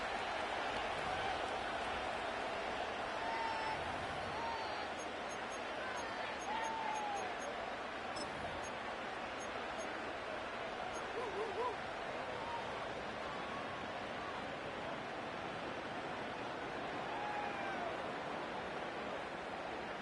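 Stadium crowd in a Madden football video game, a steady wash of roaring, murmuring fans underneath ongoing commentary, with faint whistles and cheers breaking through at moments.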